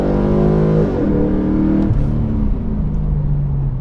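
Stock V8 of a Pontiac G8 GXP sedan revs loud and near, its deep harmonic note dipping and climbing through shifts, with no voices over it.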